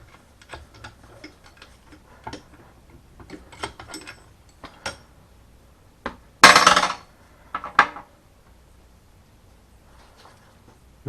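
Metal tools clink and tap while valves are removed from an Audi A6 B5 engine head, with scattered light ticks building to a louder burst of clatter and a few sharp knocks, close and with no talk.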